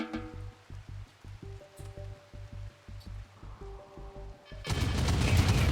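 An autocannon turret in the colony-building game RimWorld fires a steady series of evenly spaced heavy thumping shots, loud and alone, before a sudden wash of noisy impact ends the sequence.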